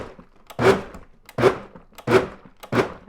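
A food processor pulses salsa ingredients in four short, loud bursts about two-thirds of a second apart, each a chopping whirr with clear gaps between.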